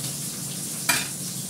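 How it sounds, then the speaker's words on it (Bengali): An iron wok holds frying food, giving a continuous close sizzle and crackle with one short sharp scrape or clink midway and no talk. "ভাজাটা আমি লোহার কড়াতেই করবো।"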